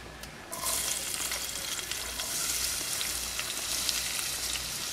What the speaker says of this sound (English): To this, we're going to add the onions.